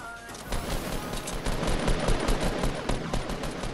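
Rapid, sustained volleys of gunfire fill the whole moment in a Fortnite match, loud and continuous with dense overlapping shots, meant as hunting rifle fire.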